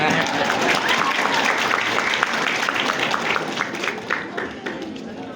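An audience claps at a school tahfidz anniversary event at MTsN 9 Sleman, Yogyakarta, a dense round of applause that fades slightly toward the end.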